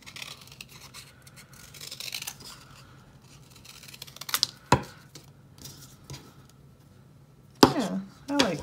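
Scissors cut through traced cardboard for a third-grade Picasso-style abstract mask, giving intermittent snips and scraping crunches with a few sharper cuts near the end, fairly close and moderate in volume.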